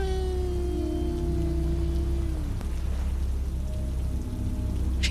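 Steady heavy rain falling outdoors, a dense continuous hiss at a constant level with a faint tonal whine sliding down early on.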